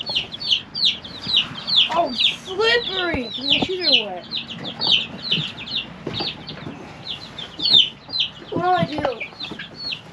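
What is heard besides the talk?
chickens clucking in a chicken pen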